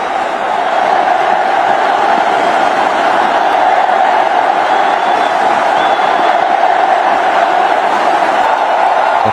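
A packed stadium crowd at a cricket test match in Mumbai roars and cheers continuously, a loud, dense wall of voices sustained throughout.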